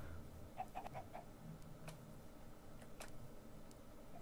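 Minecraft chicken clucking in a short burst of about four quick clucks near the start, then a few sparser clucks over a low steady background; no talk.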